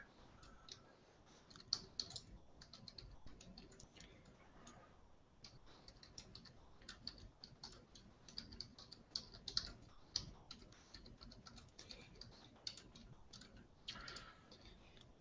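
A computer keyboard clatters with steady, quiet typing throughout: a continuous run of small clicks and key taps with brief pauses, heard alone with no voices.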